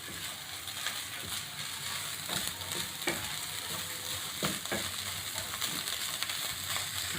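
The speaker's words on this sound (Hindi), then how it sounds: "हल्के से फ्राई हो गई।" Carrot, cabbage and onion lightly frying in a pan for hot and sour chicken mushroom soup, a steady soft sizzle with occasional stirring clatters throughout, close and alone.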